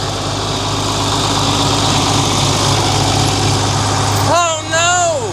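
A John Deere tractor pulls a 1450 plow through a field, its engine holding a steady, loud low drone throughout, with a short rising and falling whine near the end.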